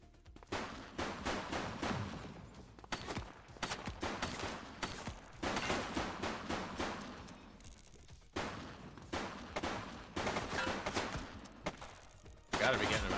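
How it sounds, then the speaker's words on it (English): Enemy gunfire erupts in the police video game The Precinct, with rapid bursts of shots crackling in dense volleys. Short pauses break up the bursts, and the shooting is loud and close throughout. "He's shooting!"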